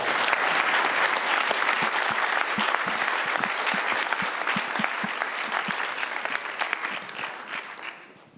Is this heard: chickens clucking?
no